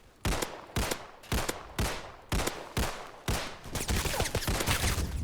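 Scar H rifle firing in the Roblox game Criminality: six loud, sharp bursts spaced roughly evenly, then a denser run of rapid shots at the end, close and without talk.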